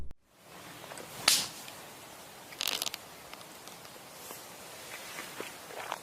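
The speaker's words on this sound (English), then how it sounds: "The footsteps grow louder. Whoever or whatever it is seems to be circling the tent" Footsteps move around a tent at night on a camping trip: a few sharp crunching steps stand out against a faint, steady outdoor hiss, with quieter shuffles in between and no voices.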